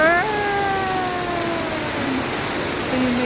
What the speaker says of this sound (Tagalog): grabe ang itim, lakas na ulan